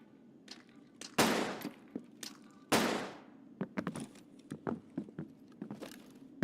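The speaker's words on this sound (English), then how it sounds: "How many stun grenades does these guys have?" Stun grenades going off in Escape from Tarkov, two loud sharp blasts with decaying tails followed by a scatter of quieter cracks and shots, all close and without talk.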